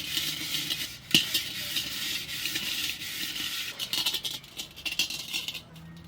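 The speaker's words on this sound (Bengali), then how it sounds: "তাই এটা রান্না করার আগে একটু ভালো করে ঠাকুমা পরিষ্কার করে নিচ্ছেন।" Scrubbing of a brass cooking pot before chicken is cooked in it, a steady close rasping and rubbing with scattered metallic clinks and one sharp knock, no talking.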